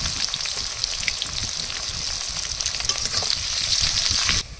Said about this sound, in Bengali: পেঁয়াজগুলো দিয়ে লাল লাল করে ভেজে নেব।